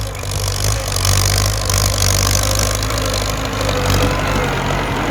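A Ford tractor's engine runs steadily while plowing a field, a continuous loud low drone with faint variations, close by and alone without talk.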